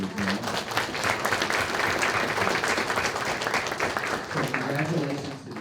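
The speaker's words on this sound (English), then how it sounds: "Let's give them one more round of applause." Sustained applause from an audience at a school board meeting, steady dense clapping filling the room from start to finish with some voices mixed in.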